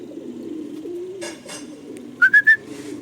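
Pigeons coo low and steadily around a racing-pigeon loft, followed near the end by three sharp, close whistled chirps in quick succession.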